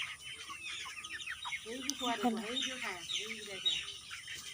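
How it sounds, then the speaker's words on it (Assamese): A flock of broiler chickens clucks and chirps while pecking at feed on a home poultry farm, the busy calls close and continuous, with a voice speaking over them. "ব্ৰইলাৰবোৰ ইমান ধুনীয়াকৈ শুই আছে, বহি আছে, এইবোৰ খাইছে"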